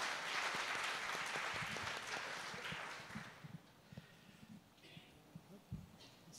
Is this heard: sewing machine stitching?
no